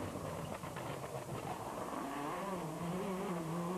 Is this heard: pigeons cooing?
no